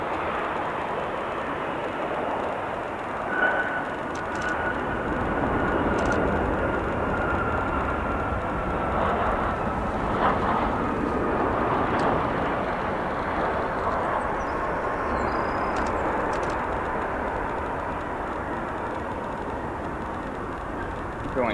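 A United Embraer airplane at O'Hare International Airport makes a continuous, moderately distant jet rumble that stays fairly even throughout.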